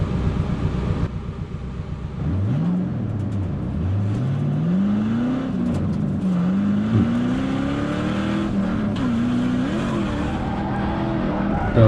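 A Mazda FC RX-7 with a swapped 5.3 LS V8 drifts around a track, its engine revving and rising in long sweeping pitches with tire squeal, loud and continuous throughout.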